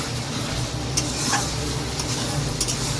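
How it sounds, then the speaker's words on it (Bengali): Onions sizzle and fry with salt in a pan while a utensil stirs through them steadily, close and continuous, with a few sharper scrapes against the pan. "এই দেখো দিয়ে দিচ্ছি নুন, দিয়ে এবার ভালো করে নেড়ে নেব"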